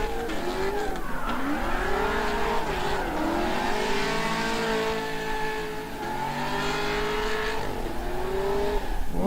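A drift car on a street course revs hard and steadily, its rowdy engine note rising and falling in sweeping waves with a thin tire squeal layered over a continuous loud roar.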